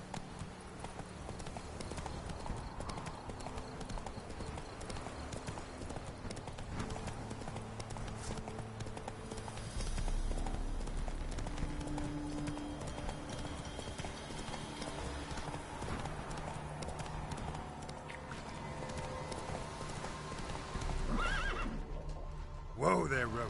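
Roach the horse galloping in The Witcher 3, rapid hoof clip-clops with a whinny, under game music and ambience, with a voice speaking to the horse now and then.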